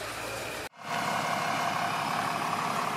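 A 2020 fifth-generation Cummins diesel truck engine, fitted with an AirDog II 4G 150 GPH fuel pump, runs at a steady idle. After a brief sudden drop at startup, a smooth, continuous hum holds close and fairly loud.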